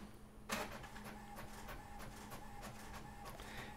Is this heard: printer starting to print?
yes